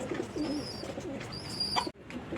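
Pigeons at a loft in Bangladesh cooing softly in repeated low throaty calls, close by, over a faint background hum.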